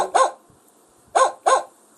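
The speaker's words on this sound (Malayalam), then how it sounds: "പട്ടി കുരയ്ക്കുന്നല്ലോ" A dog barks three times, loud and fairly close: one bark, a pause of about a second, then two quick barks in succession.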